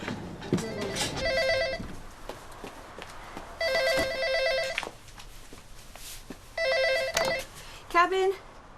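A telephone in a Coronation Street cabin rings in repeated double bursts between quiet gaps, with footsteps and voices around it, then the handset is picked up near the end.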